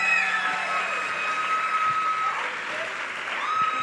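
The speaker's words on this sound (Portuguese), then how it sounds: "Pode aplaudir, se quer aplaudir," Church congregation applauding during a sermon, a continuous wash of clapping from many hands, moderately loud and steady, with faint voices underneath.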